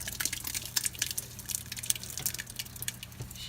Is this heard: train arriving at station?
no